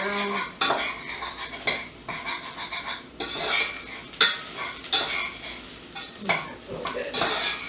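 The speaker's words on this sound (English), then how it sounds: "I'm going to add a 1/4 teaspoon of my hot chili flakes. Just going to stir that around." Salt, pepper and chili flakes are stirred in a pan with a utensil, giving repeated close scraping and clinking against the metal over a soft sizzle, no talking.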